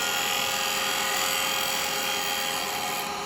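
A small Panga being turned on a wood lathe, the turning tool taking a fine finishing cut, gives a steady high whine and hiss that stays loud and even throughout, with no talk.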